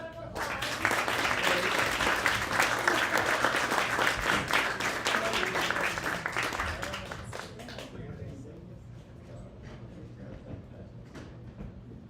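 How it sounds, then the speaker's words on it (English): An audience at a tech demo event claps loudly for a demo team, a dense and steady applause that fades after about seven seconds to a few scattered claps. "If you could all join me in giving them a huge round of applause."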